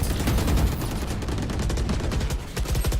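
Loud, continuous gunfire from a shooter video game, rapid overlapping shots and bursts filling the whole stretch, close and dense with no talking.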